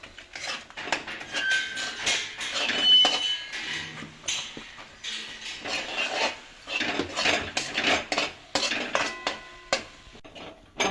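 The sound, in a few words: mixing rice flour with water into dough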